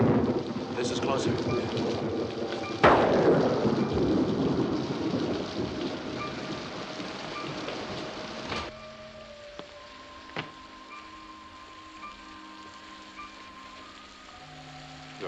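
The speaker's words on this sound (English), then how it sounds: "It's raining." Steady rain falling on surfaces, broken early by a loud, close crack of thunder that rolls and rumbles for several seconds before fading, leaving quieter rainfall with scattered drips and a faint tonal hum.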